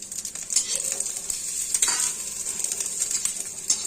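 Panch phoron spices sizzle in hot oil while a mango pickle is made, a bright steady hiss with scattered light crackles and occasional metal utensil clinks against the pan, fairly soft and close.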